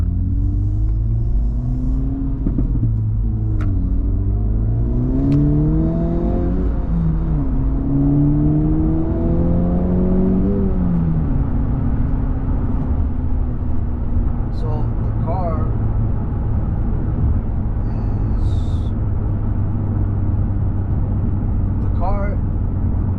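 Acura Integra Type S (FL5) engine pulling up through the revs while driving, a loud rising and falling drone with gear-change dips in the first half, then a steadier cruising rumble with road noise.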